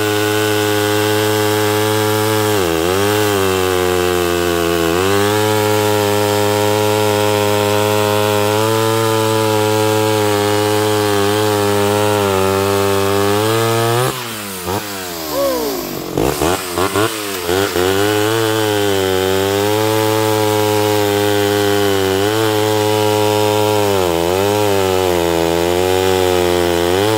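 A Homelite Super XL12 chainsaw with a 24-inch bar runs loud and close, holding a steady buzzing drone with a few brief revs and one deeper dip as the throttle changes, no talking.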